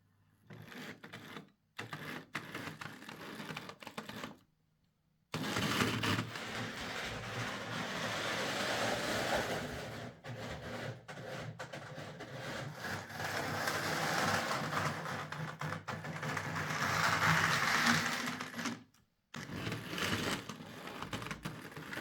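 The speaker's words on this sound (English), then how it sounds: "any noise from the locomotive is the least of this model's problems" A Hornby R.372 Class A4 "Seagull" model locomotive with loose wheels and a noise fault runs under power, making a steady buzzing whir that stops and restarts in short gaps.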